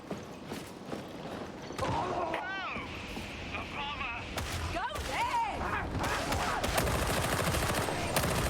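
Rapid auto pistol fire crackles in bursts in the video game Warhammer 40,000: Darktide, mixed with chaotic combat effects and growling enemies, as players talk over the action.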